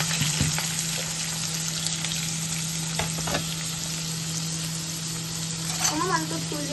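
Onion frying in hot oil with curry leaves and chili, a loud continuous sizzle close to the pan with occasional stirring clatter, while a person talks briefly under the frying.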